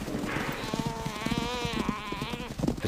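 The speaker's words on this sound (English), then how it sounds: "The chaser can hear the desperate bleat of a topi." A topi antelope bleats in distress during a lion hunt at night: wavering, strained cries rise and fall over about two seconds, close and over scuffling thumps of a struggle.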